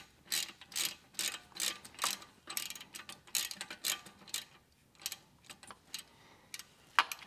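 A ratchet works loose the 14 mm bolts holding the torque converter to the flywheel of a Toyota Camry 2.5L, its pawl clicking in quick close bursts separated by short pauses.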